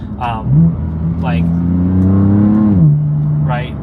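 Heard from inside the cabin with the active engine sound enhancement off, a car's engine and exhaust keep up a steady, loud droning hum that rises and falls slightly, while someone talks over it.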